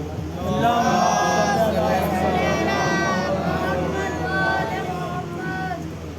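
A gathered crowd at a religious majlis calls out salawat together in response, a loud, sustained chorus of many voices blending into a continuous murmuring swell.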